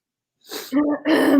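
A single close sneeze, with a sharp breathy intake followed by a voiced burst, loud and alone.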